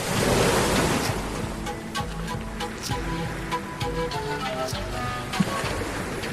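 Pacific Ocean waves wash onto the shore in a continuous broad roar, loudest at the start and then settling into steady surf with light wind noise, no voices.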